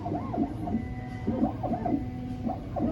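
Xhorse Condor Mini II key cutting machine running a calibration check, its small motor whirring in repeated rising and falling electronic sweeps, close and steady with no talk.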